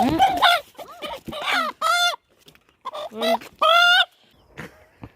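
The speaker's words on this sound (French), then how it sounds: "ça c'est le coq" An Ayam Cemani rooster about four and a half months old gives several loud, harsh calls in separate bursts, close by, with brief pauses between them and no talking.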